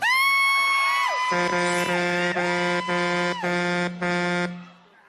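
A loud air horn on a TV variety show, sounded in several sustained blasts with pitch bends and short breaks, tapering off at the end, with faint crowd noise beneath.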